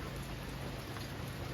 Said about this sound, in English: Especially when it's raining like this.